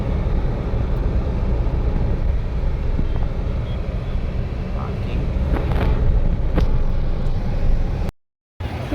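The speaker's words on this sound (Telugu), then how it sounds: "ఇక్కడ ఫుల్ ట్రాఫిక్ ఉంది." Steady road traffic on a busy route near Yadagirigutta Temple, a continuous broadband rumble of passing vehicles with a few faint horn-like tones, loud and unbroken apart from a brief dropout near the end.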